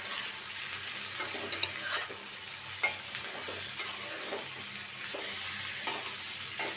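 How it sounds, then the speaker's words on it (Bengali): Chopped onion, garlic and small red potatoes fry in oil with a continuous close sizzle, broken by soft scraping stir strokes at irregular intervals. "একটু তেলে ভাজা নিব।"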